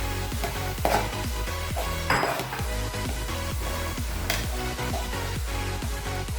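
Clam thoran, a Kerala shellfish stir-fry, is stirred in a pan with a spoon, giving a steady run of repeated scraping, clinking strokes over a faint sizzle. The strokes are close and evenly paced, and no voices are present.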